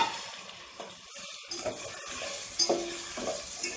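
Tomato and cooked rajma stirred in a hot pan, a soft wet sizzle with a few scraping strokes and slushy mixing sounds close by.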